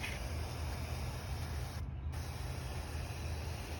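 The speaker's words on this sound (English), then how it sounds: "I'm going around spraying these and a bunch is getting on the top" Steady broadband hiss of a sprayer applying wood stain to a fence, continuous and close, with a brief pause near the middle before spraying resumes.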